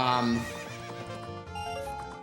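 Epona, the fully grown horse in Ocarina of Time, lets out a loud, clear whinny with a rising and falling pitch over the game's background music, with no talking.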